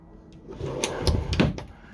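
Wardrobe doors in a Kabe Travel Master Imperial i910QB luxury motorhome being pulled shut, giving a couple of close, soft wooden knocks and clicks over a quiet interior.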